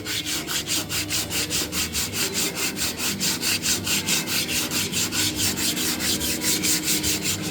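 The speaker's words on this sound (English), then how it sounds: "I'm out here block sanding this tailgate on the 59 El Camino" Steady back-and-forth strokes of a sanding block rasp across the tailgate of a 1959 Chevrolet El Camino, a regular rhythmic scrubbing held close and loud for the whole stretch with no talking.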